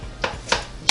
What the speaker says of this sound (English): Now I'm going to go ahead and just basically chop into it a little here.